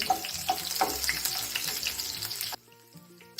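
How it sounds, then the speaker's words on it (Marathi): Cumin and garlic tempering sizzle steadily in hot oil in a pan, a dense close crackle with a few sharper pops, cutting off abruptly near the end. "चला तर मग आपण आता भाजीला फोडणी देऊन घेऊ आपण तेल टाकून घेऊ तेल टाकलं आपण त्यात आधी जिरे टाकून घेऊ"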